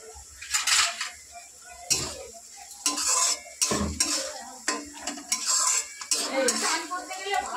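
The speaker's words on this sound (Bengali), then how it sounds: "বন্ধুরা দেখো পেঁয়াজটা ভাজা ভাজা হচ্ছে" Onions frying in a pan while a utensil stirs them, producing repeated loud scraping and clattering against the metal over a faint sizzle, close up and in an uneven rhythm.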